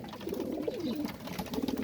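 A pigeon weakened by paralysis and tremor coos softly and continuously, its low rolling murmur rising and falling at close range over faint background noise.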